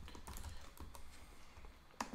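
Keys clatter on a computer keyboard in a quick, uneven run of soft clicks, with a sharper, louder keystroke near the end, heard close up and alone with no voices.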